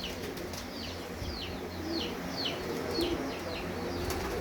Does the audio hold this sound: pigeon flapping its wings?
yes